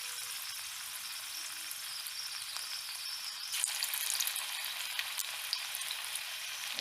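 Spinach pakora batter frying in hot oil in a kadai gives a soft, steady sizzle, quiet and close, swelling slightly as more pieces go in.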